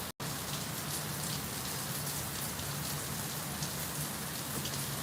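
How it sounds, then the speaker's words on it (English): Heavy rain pouring steadily in Fort Lauderdale, Florida, a loud, dense, unbroken wash of drops that continues without letup after a brief dropout at the start. "I don't know if you can appreciate how strong that rain is."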